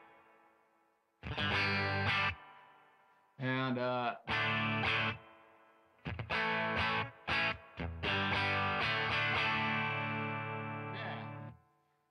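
Distorted electric guitar through a Fender Tone Master Pro amp on the bridge pickup plays loud bursts of chords and riffs with short gaps, later a sustained run of strummed notes; a brief spoken word comes first.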